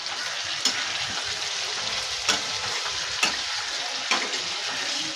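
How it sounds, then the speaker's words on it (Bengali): Masala being sautéed in a pan for an egg, potato and soybean biryani, a steady close sizzle of frying spices broken by a few sharp scrapes of the spatula stirring. "একটু ভালো করে কষাবো"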